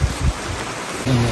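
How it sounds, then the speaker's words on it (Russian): Steady rain falling outdoors at a village cemetery in Latvia during a July gathering, a continuous hiss of drops with a brief low rumble at start and end. "It's raining."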